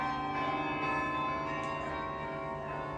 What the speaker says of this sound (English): I don't know what the best kind of music for these bells would be.